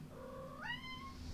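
A cat gives one rising meow, faint but clear against quiet room noise.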